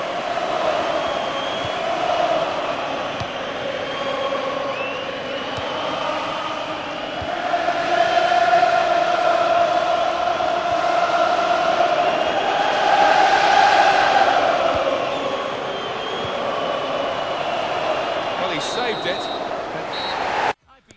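A huge stadium crowd of Liverpool fans in the FIFA 15 video game sings in a sustained, swelling chant, rising and fading in waves beneath a broad crowd roar.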